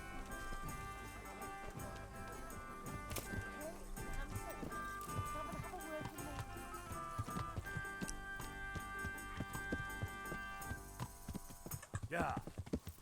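Hoofbeats from a horse in a medieval video game clop along under a steady hum and busy game sounds, with a voice speaking over them; the clopping stays quiet and continuous.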